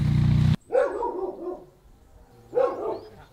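A dog barks outdoors near a small speedboat and quad on a long boat trip, two distinct bark bursts about two seconds apart after a loud engine-like hum cuts out, fairly close and alone without talk.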